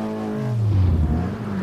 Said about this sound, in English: It's got an awful lot of power, makes a disproportionately loud amount of noise